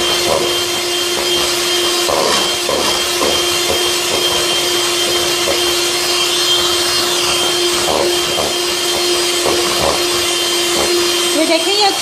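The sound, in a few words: electric beater mixing sugar for cupcake batter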